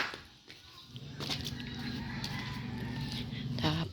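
Noisy quacking and honking from a group of ducks before feeding, close by and persistent, with soft rustling in the background.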